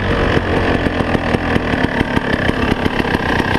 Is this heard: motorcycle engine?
yes